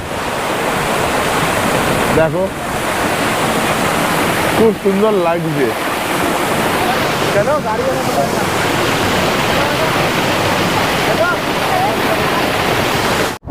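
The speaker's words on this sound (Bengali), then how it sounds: "এই ঝর্ণার জল আমি খেতে খুব পছন্দ করি।" Seven Sisters Waterfall in North Sikkim roars as a loud, continuous rush of falling water, with people talking briefly over it several times.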